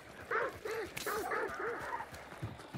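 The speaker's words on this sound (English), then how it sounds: "Dogs." Dogs in the hunting game Hunt: Showdown give a short run of yelping, whining barks at moderate distance, several quick calls over a few seconds with no talking.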